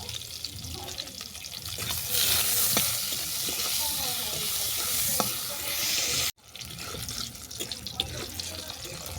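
Steady oily sizzle of eggplant frying with stirring scrapes, a brief cut partway, then the sizzle resumes at a lower level.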